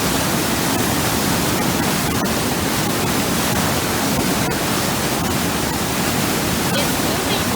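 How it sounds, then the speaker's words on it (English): Forceful rushing water moving wood along: a dense, continuous roar of broadband noise at steady loudness throughout, with no pauses or voices. "This water is so forceful."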